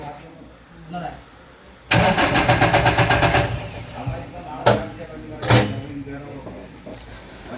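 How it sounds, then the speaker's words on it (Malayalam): A diesel pickup truck's engine cranks loudly at a workshop after a diesel filter change. The rapid churning starter lasts about a second and a half, then gives way to uneven revving bursts. Voices can be heard nearby. "വണ്ടി സ്റ്റാർട്ടാവുന്നു"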